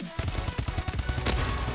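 Rapid automatic gunfire in a shooter video game, a dense burst of loud, closely spaced shots rattling continuously for under two seconds with no talk.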